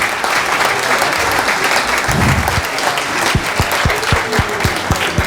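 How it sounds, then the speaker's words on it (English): Loud, continuous applause rises from the audience at a volleyball coaches convention, joined in its second half by a few sharp, distinct claps standing out from the crowd noise. "they need a huge round of big applause"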